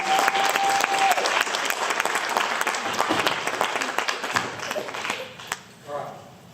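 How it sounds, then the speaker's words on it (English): An audience claps for forensics team students at a Buhler High School showcase, a dense round of applause that carries on steadily before thinning out and fading near the end. "So if you give them a round of applause"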